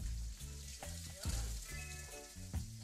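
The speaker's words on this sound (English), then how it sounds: "We're gonna sear our trout skin side down for about 3 to 4 minutes" Brook trout fillets sear skin side down in a hot pan, a loud continuous sizzle and crackle with low rumbling underneath.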